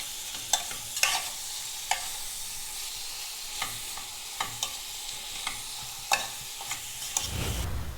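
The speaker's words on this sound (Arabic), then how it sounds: "نقليو هاد اللحم مرحي مع البصل مليح" Minced meat fries with onion in a pan, a steady, soft sizzle punctuated by sharp scraping and clacking stirs at irregular intervals, close up, with no talking.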